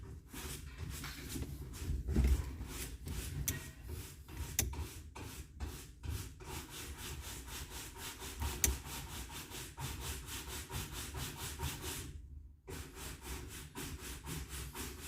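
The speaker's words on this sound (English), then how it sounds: "the headliner on the Discovery being scraped" Rapid rhythmic scraping strokes on the headliner of a Land Rover Discovery, a steady rasping back-and-forth texture heard in the background at low level, with one brief pause near the end.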